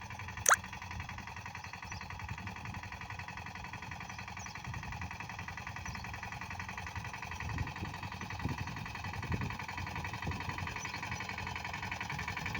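A tractor moving slowly through a banana field while cutting furrows, its low engine rumble steady and moderately distant throughout, with one sharp click near the start and faint scattered field noises.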